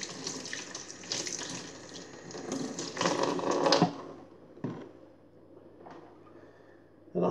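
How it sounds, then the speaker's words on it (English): Running tap water streams steadily over a shaving brush being rinsed, a continuous broadband splash that swells and thins as the brush moves through the flow, with brief sputters near the end. "I'll just rinse that off."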